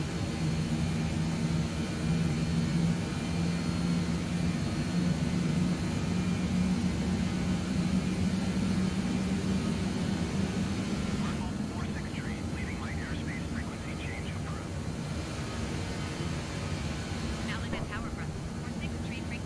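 Engines of a British Aerospace Avroliner in Microsoft Flight Simulator 2020 hold a steady, loud drone with a low hum throughout, while someone talks over it and faint chirpy noises come in near the end.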